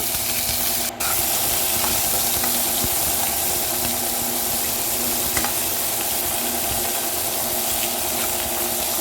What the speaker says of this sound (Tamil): இது எல்லாம் சேர்த்து நல்லா வதக்கிக்கோங்க